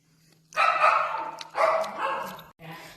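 A village dog gives three loud, close barks in quick succession, the last one shorter, with a low steady hum underneath.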